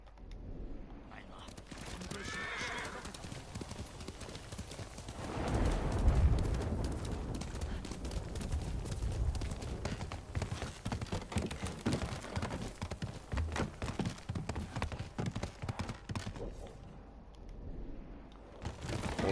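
Horse hooves clip-clop steadily as a rider travels in the video game Ghost of Tsushima, a rapid rhythmic trot that carries on for most of the stretch under game ambience, with someone talking over it.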